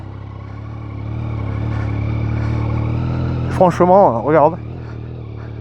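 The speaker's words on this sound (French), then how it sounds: "que dire aussi du bruit du moteur" A 2022 Yamaha Tracer 9 GT motorcycle engine idles in a steady low rumble, then someone speaks briefly over it.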